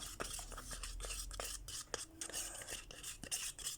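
Resin mixture is stirred in a small container, a quiet run of irregular scraping and clicking taps as the stir stick knocks against the sides, close and faint.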